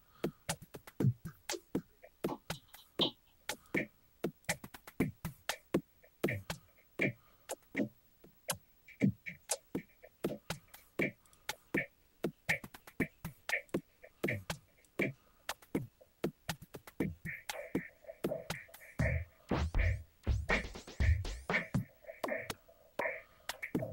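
Reason 5 Combinator loop patch built around Dr. VocoRex, playing a fast, evenly repeating pattern of sharp percussive hits with tonal vocoded layers coming in over the second half, loud and isolated.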